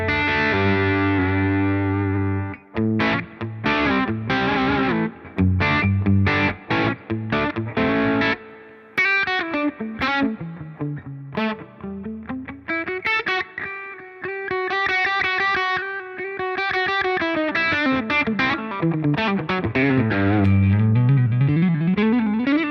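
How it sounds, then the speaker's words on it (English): Electric guitar through a Strymon Sunset dual overdrive pedal set to 2-stage clipping with low drive: ringing chords, then staccato stabs and sustained single-note lines, with mild grit and a responsive, dynamic attack. "let's start with the 2-stage clipping actually, and let's keep the drive a little bit lower"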